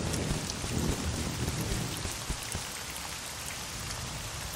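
Steady cartoon rain pours down on a surface in a thunderstorm, dense and hissing throughout, with a low rumble of thunder swelling early and a few sharper cracks.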